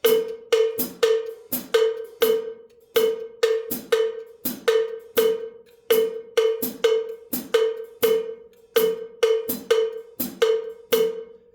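A bright cowbell strikes a repeating syncopated five-note son clave pattern, loud and close, looping steadily with no other sounds.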